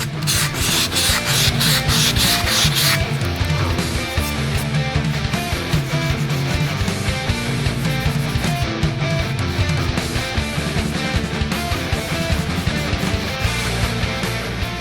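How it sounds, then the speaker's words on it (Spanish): Sandpaper scrubs at a polystyrene monolith model in quick, rhythmic back-and-forth strokes, producing a close, steady rasping scratch that runs without a break. "Pues lo lijamos un poquito para disimularlo"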